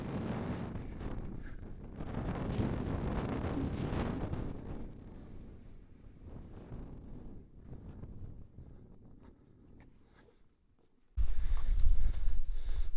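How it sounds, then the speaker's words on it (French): Strong mountain wind gusts batter the microphone in rushing, roaring surges that swell and fade, dropping almost to silence before a sudden heavy blast hits at the end. "Les rafales, elles sont vraiment puissantes."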